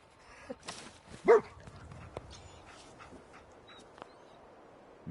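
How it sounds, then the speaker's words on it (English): Dogmeat the dog in Fallout 4 gives a single loud, close bark, with a few faint yips and soft game sounds around it and no talking. "He's a dog."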